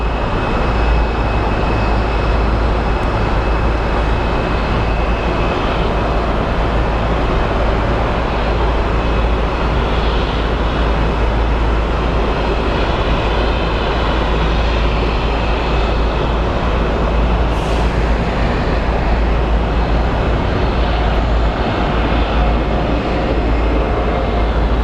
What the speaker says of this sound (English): So the Delta that landed is taxiing.